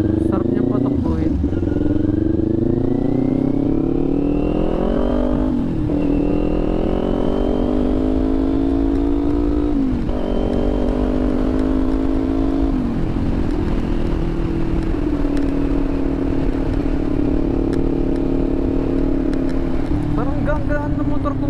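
A motorcycle on new Corsa Platinum R93 tires rides along a street, its engine rising and falling in pitch through repeated gear changes, loud and close, with a rider talking over it.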